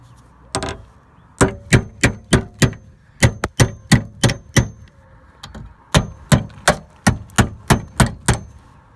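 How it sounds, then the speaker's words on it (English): Metal on a Jeep Cherokee being struck with a hammer after being cut, a rapid series of sharp, ringing blows in bursts of several hits, close and loud, with no talking. "And just keep hammering it all the way around."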